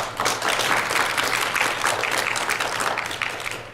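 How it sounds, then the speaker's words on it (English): Applause from an audience at a 2009 software conference demo as a guest client is welcomed on stage; dense, steady clapping close by that holds evenly for about four seconds and eases slightly at the end. "Now, please give Kay a round of applause."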